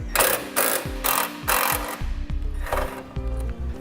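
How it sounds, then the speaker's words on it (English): A 10mm socket ratchet working a bolt loose at the front fender of a 2007 Jeep Liberty, giving repeated rapid ratcheting bursts in a steady rhythm, close and fairly loud, with no talking. "I'm using a 10mm socket to remove it."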